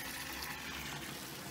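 Water gushes steadily into a rooftop storage tank, a continuous broadband rush with no pauses or voices.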